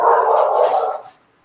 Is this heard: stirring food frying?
no